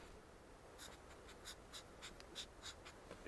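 A marker scratches out a label on a plant pot for a fig cutting, a series of short, faint, rhythmic strokes close up over a soft steady hiss.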